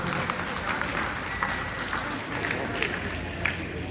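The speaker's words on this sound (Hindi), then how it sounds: "जोरदार तालियां बजाकर उनका हार्दिक अभिनंदन" An audience at a school Holi celebration applauds poets with steady, dense clapping that fills the space from start to finish, loud and continuous with no break.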